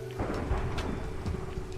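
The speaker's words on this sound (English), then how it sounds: "I'm gonna go sleep off this night and the rain and thunder." Minecraft rain pours steadily with a low rumble of thunder rolling underneath, a dense and loud wash of game weather without any voices.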